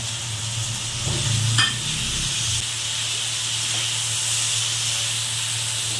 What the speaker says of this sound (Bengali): তখন আমি এই আদা আর কাঁচা লঙ্কা পেস্টটা এর মধ্যে দিয়ে দেব। টমেটোগুলো এর মধ্যে দিয়ে দেব।